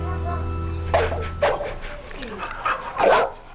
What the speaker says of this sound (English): this pit bull has got what it takes to scare other dogs